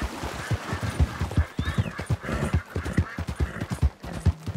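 A horse gallops in Red Dead Redemption, rapid rhythmic hoofbeats clopping close and loud with a brief whinny-like squeal partway through.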